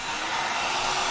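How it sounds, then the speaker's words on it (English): A vacuum pulsed on during milling of the layers for an SMD pick-and-place carousel gives a loud, steady rushing whoosh of air that fills the whole moment, with no talk. "I have to pulse the vacuum on again."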